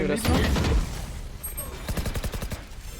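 Rapid gunfire from the video game Valorant, a loud early burst followed by a string of sharp repeated shots, mixed with game effects and players talking over voice chat.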